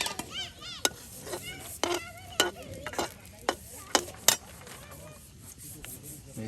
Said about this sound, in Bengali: এই যে একদম পেঁয়াজ মরিচ সব কিছু তেলে ভেজে নেওয়া হলো।